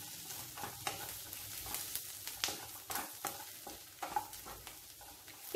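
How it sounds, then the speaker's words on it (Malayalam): Chicken kuruma masala stirred in a pan over a low flame, a spoon scraping and turning the thick mixture in repeated uneven strokes beneath a soft steady sizzle, close and moderately loud with no talking. "നല്ലതുപോലെ മിക്സ് ചെയ്ത് കൊടുക്കാം."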